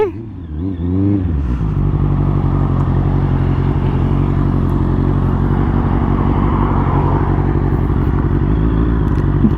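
A Honda CB650 motorcycle being ridden, its engine rising briefly at the start before settling into a loud, steady drone with a constant rumble and wind noise, heard close up throughout.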